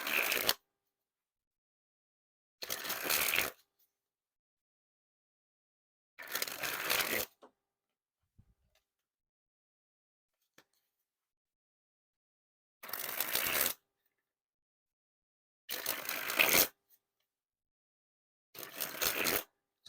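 Red Bicycle House Blend playing cards sprung from hand to hand, six quick crisp riffling bursts about a second long each, separated by silent pauses, close and fairly loud with no talking.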